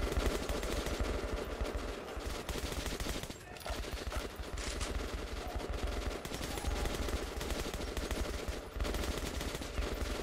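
Sustained gunfire in the Metro: Last Light Redux shooter game, dense bursts of automatic shots filling the scene continuously for about ten seconds, loud and busy with a brief lull partway through.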